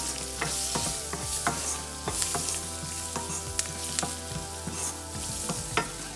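Onions fry in a pan for tomato soup, a close, steady sizzle broken by frequent sharp stirring clicks and scrapes of a utensil against the pan.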